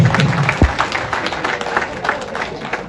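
Guests at a Rwandan wedding clap and applaud in a dense, lively burst, the patter close and continuous with a few louder individual claps over a crowd murmur.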